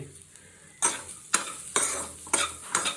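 Chicken pepper dry with coriander fries in a pan while a spoon stirs it in repeated scraping strokes, each stroke bringing a burst of close, steady sizzling.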